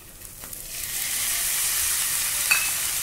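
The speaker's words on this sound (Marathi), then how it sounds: "मटकी पण छान परतून घ्यायची आहे।" Sprouted moth beans sauté with onions and spices in a hot pan in a Marathi kitchen, a steady close sizzle and hiss that swells and holds, with a faint scrape of stirring.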